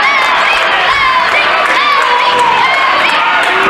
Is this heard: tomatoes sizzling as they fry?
no